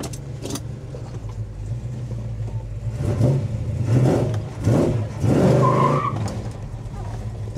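A 1970 Chevy Chevelle 454 SS V8 rumbles low and steady, then revs and accelerates in several rising surges, loud and close, settling back toward a lower drone at the end.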